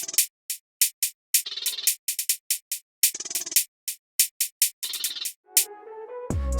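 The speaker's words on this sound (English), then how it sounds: "So I started with a hi-hats loop" A crisp UK drill hi-hat loop ticks in a quick, syncopated rhythm with short open-hat bursts, ending on a low synth tone and a deep hit.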